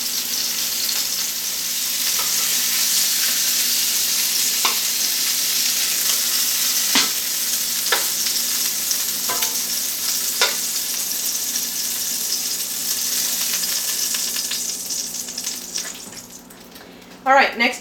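Pork chops sizzle in an oily pan, a steady broadband frying hiss running for the whole stretch, broken by a few sharper crackles and pops, with a brief clatter near the end.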